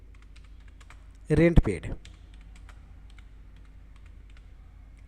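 Steady, fast keystrokes on a computer keyboard while entering data in Tally accounting software continue throughout, briefly covered by a short stretch of speech.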